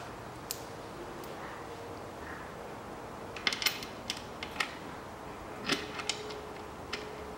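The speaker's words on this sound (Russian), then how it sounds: "А теперь по периметру устанавливаем болты и все это подтягиваем." Bolts are tightened around the valve cover of a 2004 Volkswagen Touareg, giving faint ratcheting clicks and scattered metallic ticks over a steady low hum, close and sparse with no talk.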